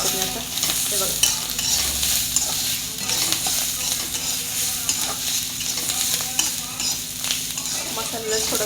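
Masala and peanuts frying in a pan for a spicy bitter gourd dish, a loud continuous sizzle with repeated scraping strokes of a spoon stirring close by.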